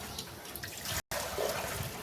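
Water pours into a pigeons' drinking bowl as a steady close trickle and splash, broken briefly by a short silent gap before it resumes.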